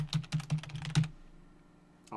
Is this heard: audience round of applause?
no